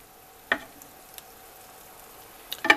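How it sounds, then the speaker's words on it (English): Teriyaki chicken being stirred in a hot pan, with a quiet steady sizzle and a couple of short scraping clinks from the utensil. "So now all you do is just stir this"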